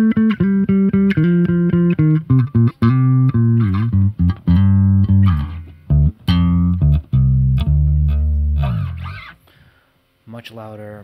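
Bass guitar run through two effect pedals, playing sustained, layered notes and short phrases, loud and close, with brief gaps between notes and a quieter trailing passage near the end.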